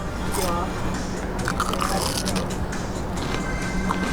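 Crunchy bites into fish and chips sound up close, with crisp cracking textures over a steady background murmur.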